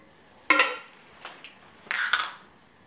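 A small titanium camping pot and kettle clink together in a few bright metallic knocks, one sharp hit followed by lighter taps and a second cluster, close and alone.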